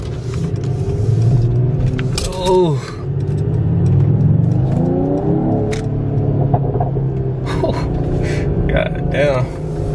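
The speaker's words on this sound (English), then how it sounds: "As you can hear, I got my burbles and my pots back." A Mercedes-AMG GT53 engine rumbles and revs nearby, with crackling exhaust burbles and pops between throttle blips, and a voice exclaiming briefly.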